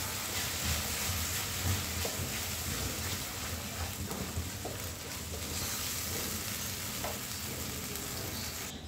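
Misal masala fries in hot oil for Maharashtrian street-food misal pav: a steady, close, crackling sizzle runs throughout, broken now and then by soft scrapes of stirring.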